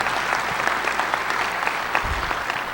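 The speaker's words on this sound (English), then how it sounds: "we'll just clap for them because they were there" Crowd at a hacking conference award ceremony clapping for an absent third-place team, a steady dense wash of applause from a large audience.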